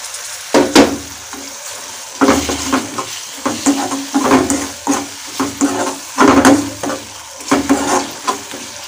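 Chopped tomatoes frying with onion and masala for a mushroom gravy, a loud close sizzle broken by rhythmic bursts of spoon stirring and scraping against the pan, with no voices.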